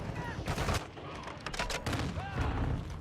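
Sniper-rifle gunfire in the Call of Duty video game: several sharp shots in quick bursts, fairly quiet, with a faint voice in the background.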